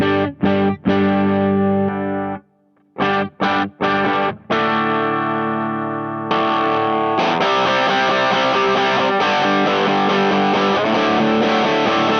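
Clean electric guitar through a mini humbucker pickup, starting with short plucked stabs separated by brief gaps, then settling into sustained strummed and picked playing, loud and close.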